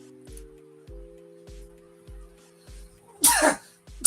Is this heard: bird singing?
no